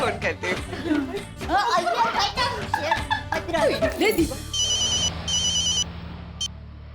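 Talk and soft chuckling, then an electronic phone ringtone trills in repeated bursts over a low steady hum.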